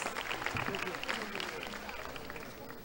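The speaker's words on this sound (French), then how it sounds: "Sous vos applaudissements, chère assistance" Audience applause greets a guest introduced at the Miss USB 2016 pageant finale, a steady wash of clapping with a voice speaking over it throughout.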